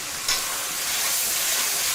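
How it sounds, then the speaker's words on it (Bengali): Cumin, onion and coriander masala with chicken skin is stirred while frying in oil, making a dense, steady sizzle close by, with a brief scrape of stirring near the start. "আবার নেড়ে চেড়ে কষিয়ে নিচ্ছে।"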